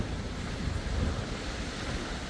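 Steady rushing roar of a waterfall at Milford Sound, New Zealand, with spray and wind buffeting close to the microphone, a continuous hiss and low rumble without a break and no voices.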